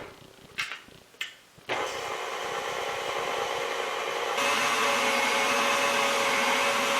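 An electric mixer whirs through brownie cookie dough on a low setting, starting after a few clacks and running as a steady close motor drone that gets louder near the end.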